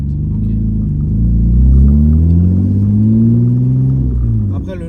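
A Nissan 350Z engine revs hard and steadily on launch control, a loud, deep rumbling drone that swells and holds near the mic before easing off at the end.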